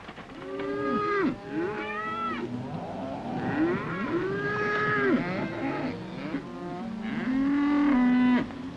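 Cattle low and moo again and again at close range, several drawn-out calls overlapping one another and rising and falling in pitch, loud and steady with no voices, on a western desert ranch.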